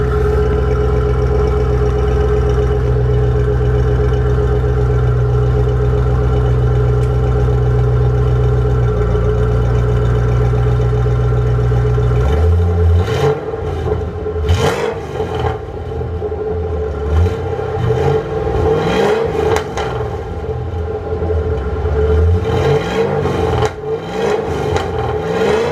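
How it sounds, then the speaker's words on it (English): A car's engine idles with a deep, steady drone, then from about halfway through it is revved repeatedly, each blip rising and falling in loud, throaty sweeps with no talk over it. "Let me give you a couple revs."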